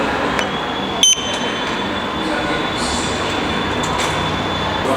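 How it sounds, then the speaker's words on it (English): A metro train arrives at a Milan station, a loud continuous roar of rolling wheels and rumble with a faint high squeal running through it, close and steady throughout. "I think the train's here because a lot of folk are coming up here now"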